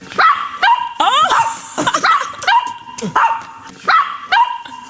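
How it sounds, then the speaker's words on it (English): A dog in a recorded message barks repeatedly in a quick, looped rhythm of sharp yips and bow-wows, loud and close, with brief whimpering tones between barks and no voices over it. "he's made the dog bark"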